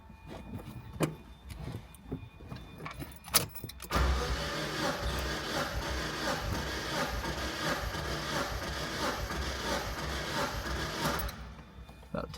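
A 2001-2005 Mazda Miata engine turns over on the starter for about seven seconds during a compression test, a steady, fairly loud whirring crank with quieter handling noises before and after.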